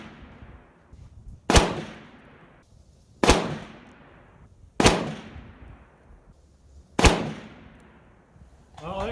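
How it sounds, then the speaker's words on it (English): A 6.5 Grendel rifle fires four sharp, loud shots spaced about one and a half to two seconds apart, each crack trailing into a short echoing decay outdoors. "let's move on to our second 5-shot group"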